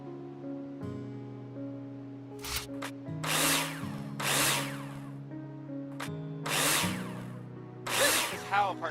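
A power drill driving screws to attach plasterboard to a partition wall in Builder Simulator, several short whirring bursts separated by pauses over a steady low game hum.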